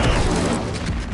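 An Incendio fire spell is cast in Hogwarts Legacy, a brief, dense roaring burst of flame that stays loud and broad for about a second.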